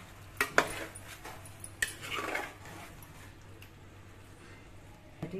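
Chicken curry with curd stirred in a pan over low heat: a few close metal spoon clinks and scrapes against the pan, then a quiet simmer.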